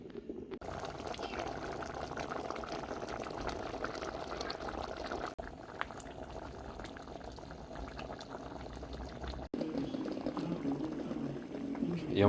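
Mud crabs boil in a pot outdoors, a steady bubbling and rolling-water churn, close and continuous, with brief breaks and a louder surge near the end.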